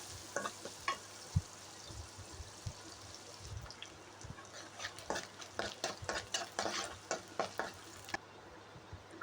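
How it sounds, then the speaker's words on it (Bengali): Chopped onions and green chillies frying in oil in a wok (kadai), with steady sizzling punctuated by repeated scraping strokes of a spatula that grow busier toward the end; no talking. "এখন পেঁয়াজগুলোকে ভালো করে ভেজে নিব।"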